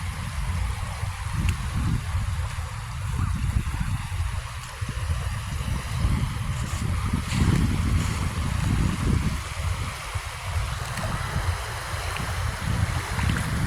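Ocean waves wash in steadily at a beach where people are swimming, a continuous low rumble of surf with soft wind, no voices.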